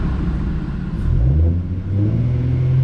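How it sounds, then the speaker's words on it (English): A Ford Mustang with a muffler delete revs up and holds a steady elevated idle, a loud, close, continuous low engine drone that swells in the middle and stays strong to the end, with no talking. "I'm gonna give it a little rev, hold it at 2K for a couple seconds"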